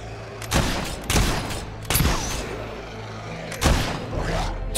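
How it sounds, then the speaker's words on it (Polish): Gunshots aimed at a wolf in the video game Fable 3 ring out as four sharp, loud cracks with booming tails, spaced about a second apart over a steady low background. "Okej, 3 strzały na wilka."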